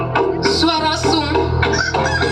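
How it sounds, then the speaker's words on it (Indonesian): A rooster crows in a long, loud, strained call that rises and wavers over a rumbling background, heard during an outdoor stage performance of the Gunung Kelud legend. "ayam jantan berkokok"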